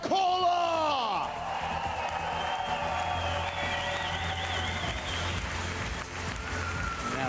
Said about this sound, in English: Loudest cheer, as you'd expect.